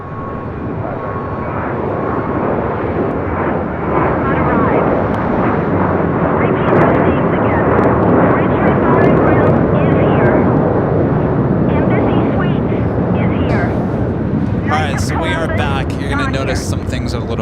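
An American Airlines jet rolls for takeoff on LAX runway 25 right, its engines building to a loud, sustained roar that then holds steady, while radio voices talk over it.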